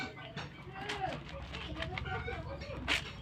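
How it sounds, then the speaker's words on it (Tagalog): Backyard chickens clucking and murmuring close by in a steady, busy flock chatter, with a voice speaking over them. "Tingnan ninyo yung mga manok!"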